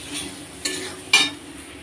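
A spoon stirs spiced amudi fish with brinjal in a pan, making two short metallic scrapes and clinks over a faint background sizzle.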